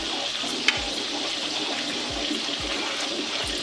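A quarter cup of water is poured into a pan of stirred yogurt and tomatoes for mutton kofta biryani, giving a steady close trickling splash with a few soft low thumps underneath.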